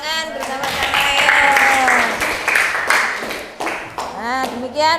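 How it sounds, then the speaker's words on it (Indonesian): Children in a classroom clapping together in a loud burst of applause, close and sustained, with excited young voices calling out over it as it tapers toward the end. "Beri tepuk tangan bersama-sama ya."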